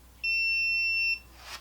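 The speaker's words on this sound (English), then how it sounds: "I got my meter set on the audible beep when there's a connection" A digital multimeter set to continuity mode gives one steady, clear electronic beep lasting about a second while testing a warming drawer's heating circuit, close and alone, followed by a faint rustle.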